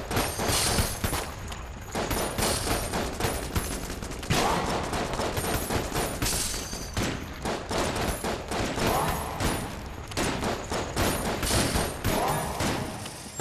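Dense, continuous gunfire from a weapon in the video game Enter the Gungeon, rapid shots and thuds packed into a loud, unbroken barrage that runs the whole stretch with brief dips.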